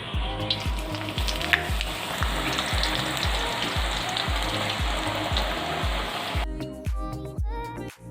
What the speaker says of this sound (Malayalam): എണ്ണ ശരിക്കും ചൂടായിട്ടുണ്ട്. നമുക്കിത് വറുത്തെടുക്കാം.